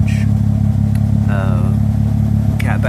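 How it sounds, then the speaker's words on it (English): A 1989 Toyota Mark II GT twin turbo with a 3-inch catback exhaust and Vibrant 3-inch muffler rumbles loudly and steadily at close range, its deep drone rising slightly in brief revs. "3-inch catback with a vibrant 3-inch muffler, so sounds pretty wicked"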